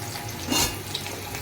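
Potatoes frying in olive oil in a pan for a chicken stew, a soft, steady sizzle with a brief stirring scrape in the middle, close and fairly quiet.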